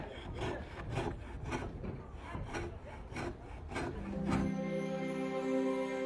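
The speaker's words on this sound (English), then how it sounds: "The problem is solved by cutting off part of the bolt." Rhythmic back-and-forth sawing strokes cut through a bolt at the base of a handmade wooden model ship's mast, about a dozen strokes close and steady, ending in a ringing metallic tone.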